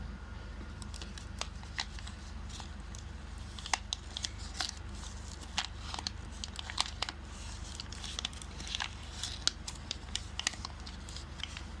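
Paper being creased and folded into an origami boat makes quiet, close, irregular crisp snaps and rustles scattered through a soft background hum, with no talking.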